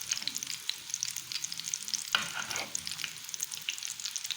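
Fish pieces frying in a pan over raised heat, a steady crackling sizzle with scattered pops, close and continuous.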